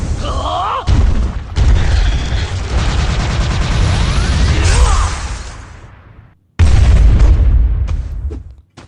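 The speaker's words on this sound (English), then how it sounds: "Big explosion at the end." A big explosion in a game played during a tabletop podcast session, a loud sustained booming rumble with whooshing sweeps and mechanical clatter that cuts out, then a second heavy blast hits hard near the end.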